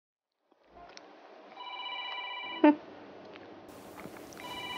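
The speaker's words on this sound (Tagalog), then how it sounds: "May tumatawag na naman." A telephone rings with bright electronic tones in a couple of repeated bursts against a quiet room, fairly close and clear, with a short sharp knock in between.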